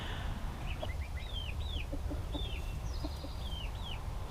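Chickens near a backyard coop give soft, scattered clucks and short rising chirps, several calls spaced across a few seconds against a faint steady outdoor background.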